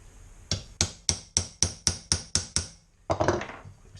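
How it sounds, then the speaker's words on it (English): A hammer strikes a centre punch into metal during motorcycle oil filter removal, with eight sharp, evenly spaced ringing blows close by, then a brief pause and a final rattling hit. "Quick centre punch to make sure it goes through the right spot."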